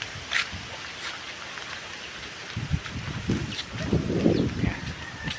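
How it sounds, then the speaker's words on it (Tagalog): Strong wind gusts over a rural yard where a piggery roof has just been put up, heard as a steady rushing hiss that swells into heavier low rumbling buffets in the second half, with no one speaking. "Kaya nga ay malakas nga ho ang hangin."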